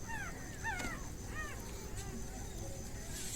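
A puppy whimpers in several short, rising high-pitched cries close by, set against steady background noise at night.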